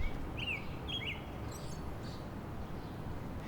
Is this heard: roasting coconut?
no